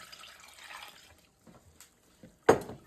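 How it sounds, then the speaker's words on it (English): Two cups of water go into a pan for lemon meringue pie filling, heard as a soft pour and a few quiet drips, then a sudden brief louder splash near the end. "now we're going to put 2 cups of water in."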